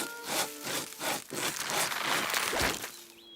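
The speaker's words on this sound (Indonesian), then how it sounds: "Aku ambil gergaji." A hand saw cuts back and forth in a cartoon, giving several rhythmic rasping strokes that turn into a quicker, denser grind, with a short musical tone near the end.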